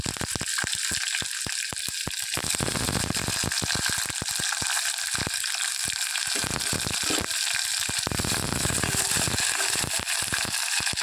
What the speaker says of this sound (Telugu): దోరగా వేయించుకోవాలి ఉల్లిపాయ ముక్కలు